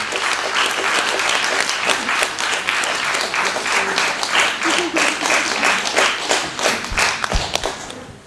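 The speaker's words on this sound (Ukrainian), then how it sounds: "під ваші оплески я пройду собі" Audience applause in a theatre during a Christmas play in Stary Sambir, a dense burst of clapping lasting several seconds, with loud individual claps standing out and a few heavy thumps near the end.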